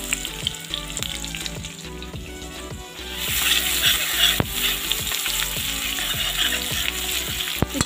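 Onions and garlic frying in a little oil in a pan give a steady, close sizzle with stirring scrapes, growing louder and brighter partway through.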